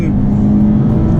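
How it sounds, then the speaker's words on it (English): A Nissan 370Z at full throttle from about 50 mph, its engine droning loud and steady from inside the cabin with a strong low rumble. "we're at what, 50 miles an hour now, flooring it"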